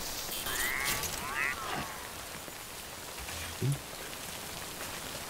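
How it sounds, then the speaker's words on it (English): Steady rain falling in the video game Death Stranding, a broad even hiss of drops on surfaces throughout, with a few brief tonal game sounds and a low thump partway through. "Rain's starting to pick up."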